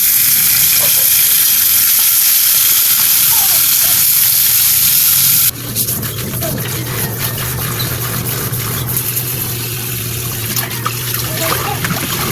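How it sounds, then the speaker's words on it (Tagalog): Galunggong (round scad) fish fry in a pan with loud continuous sizzling and spattering oil. The sizzle drops slightly midway and then carries on steadily, with little talk. "Ipipirito ko lang muna yung galunggong."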